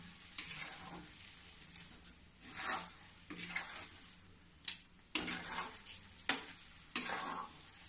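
A milk kalakand mixture cooks in a pan over a gas flame at medium heat, stirred with a spoon in repeated scraping strokes over a soft, steady sizzle, close and quiet with no talking.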